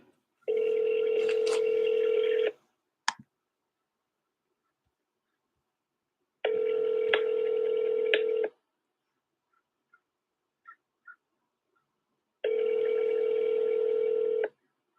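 Outgoing telephone call ringing back, three long steady electronic ring tones spaced evenly with silence between, clear and alone apart from a few faint clicks.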